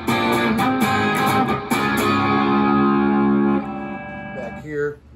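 A Chinese-made Hello Kitty electric guitar is played heavily through a distortion effect, loud sustained crunchy chords with strong harmonics that ring out and fade with a final slide.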